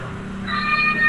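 A single close house cat lets out one short rising meow that starts partway through, heard alone over quiet room tone.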